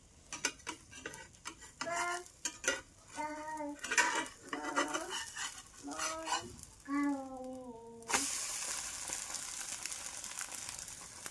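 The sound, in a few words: food flipped and frying in a pan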